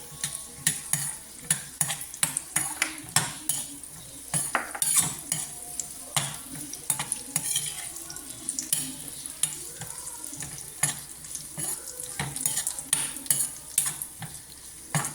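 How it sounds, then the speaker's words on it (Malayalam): Cashews and raisins fry in ghee for pineapple kesari. A soft, steady sizzle runs under frequent rhythmic clinks and scrapes of a spoon stirring in the pan, with no voices. "നെയ്യ് ഒഴിച്ചിട്ട് ആദ്യം ആ മുന്തിരിങ്ങ അണ്ടിപ്പരിപ്പൊക്കെ ഇങ്ങ് വറുത്തെടുക്കണം"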